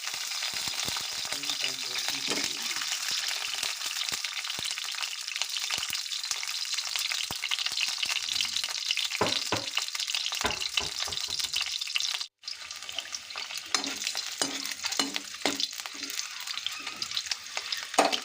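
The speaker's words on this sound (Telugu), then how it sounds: "ఈ బాయిల్ చేసుకున్న ఎగ్స్ దాంట్లో వేసి వేయించాలి" Boiled eggs frying in about four tablespoons of oil in a pan for a dhaba-style egg masala curry, giving a steady, close sizzle with occasional stirring scrapes and no talk.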